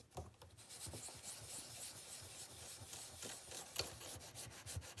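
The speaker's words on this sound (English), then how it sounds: "This is called burnishing, where you rub something in order to transfer something else." Paper being burnished onto a linoleum block with the edge of a ruler: a quiet, continuous dry rubbing and scraping with faint repeated strokes, close up and with no talking.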